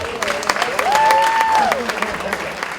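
A crowd claps and cheers steadily throughout, with a voice or sustained tone rising above the noise in the middle.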